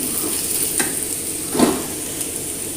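Chilli powder is stirred into a frying North Indian dish, with a spoon scraping the pan twice over a continuous, close hiss of sizzling oil.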